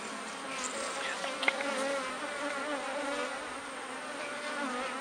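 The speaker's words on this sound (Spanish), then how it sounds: "Si se dan cuenta, está repleta de abeja." A crowded beehive packed with honeybees, a queenless colony that had a drone-laying queen, hums with a dense, steady buzz close up, with single bees droning past now and then and no voices.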